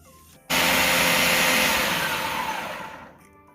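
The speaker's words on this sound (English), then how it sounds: "then we're going to blend it in the blender." An electric blender starts abruptly and whirs loudly as it purees cooked chana dal into a paste, a steady high motor whine lasting about two and a half seconds before cutting off.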